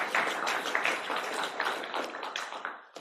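Lecture audience breaking into applause, a dense, steady patter of many hands clapping for about three seconds before tapering off.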